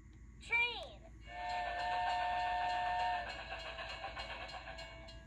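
A train sounds a brief rising whistle, then a long steady horn-like tone with a rolling rumble that trails off into clattering.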